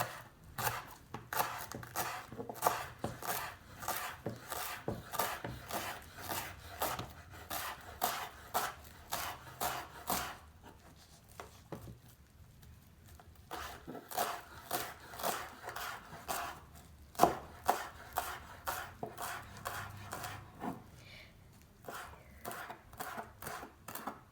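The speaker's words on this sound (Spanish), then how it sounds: "lo último que voy a picar es un poco de cilantro" Cilantro being chopped with a knife on a board: rapid, regular chopping strokes in long bursts, with a brief pause mid-way before the quick rhythm resumes, close and clear.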